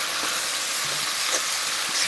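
Meat added to a pan of fried spiced masala, a steady bright sizzle and hiss of frying, close and constant, with faint stirring taps and no talk.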